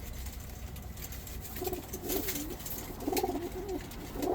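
Low, soft cooing of a dove or pigeon in short repeated phrases, fairly quiet, over a faint background hum.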